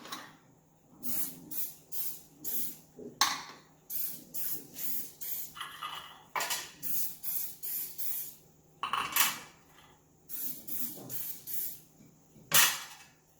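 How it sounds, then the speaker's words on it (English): Cooking spray oil hissing onto an idli stand in a kitchen, a steady series of short spritzes in rhythmic bursts, each about half a second, repeated many times and heard alone without talk. "Spray oil on the idli stand."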